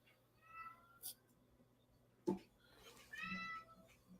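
A house cat meows a few times, fairly close, with a short voice-like cry between the calls and low background hum.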